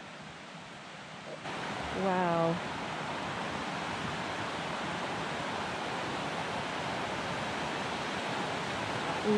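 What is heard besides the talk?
river flowing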